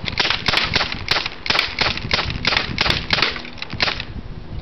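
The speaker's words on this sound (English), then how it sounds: "I might see how fast I can shoot this one." A Crosman P10 CO2 pistol fired rapidly, about ten sharp, snappy cracks in a fast, fairly even rhythm, loud and close, with brief gaps between shots.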